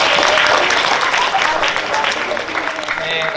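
Students at a vocational school gathering break into lively, close applause that holds steady throughout, with some voices mixed in.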